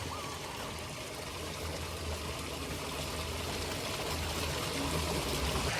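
Water pours steadily into a bathing spot in a village, a continuous rushing flow with no breaks, fairly loud and close, with a low rumble beneath it.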